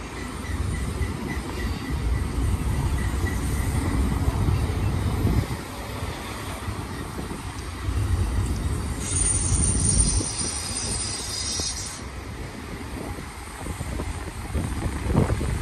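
A Union Pacific freight train rolls past in Cajon Pass with a continuous heavy rumble of wheels and cars, rising and falling in waves, with a long high wheel squeal partway through.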